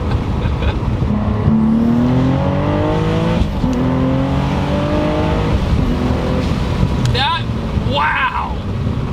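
A twin-turbo 650 hp V6 Cadillac ATS-V accelerates hard, its engine note climbing through rising harmonics, with sharp flat-foot upshifts that drop the pitch and kick back in, all loud and close with a voice talking over it.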